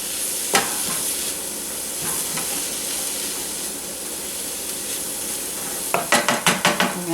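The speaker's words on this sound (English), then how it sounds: "we're going to stir the cauliflower a little bit more" Cauliflower being stirred in a hot pan, a steady sizzle and frying hiss with a sharp scrape near the start and a quick run of clattering utensil knocks toward the end, no voices.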